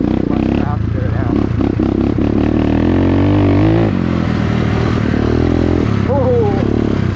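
A dirt bike engine, recently fitted with a new clutch basket, roars loud and close while riding through a wildfire area, rising and falling in pitch with throttle changes as a voice talks over it.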